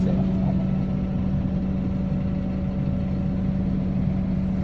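An old motocross vehicle's engine runs close by, giving a loud, steady, rough mechanical drone with little change in pitch.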